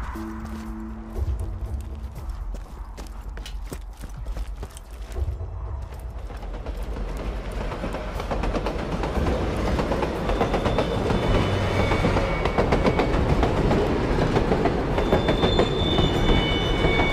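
A payroll train in Borderlands 2 rolls along the rails with a heavy, rumbling clatter and scattered metallic clicks, the noise growing denser and louder as it continues.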